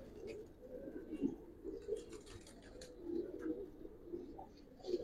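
A female Giribaz pigeon of an old Old Dhaka breed coos softly in a loft, with low, repeated, muffled coos over a faint background hum.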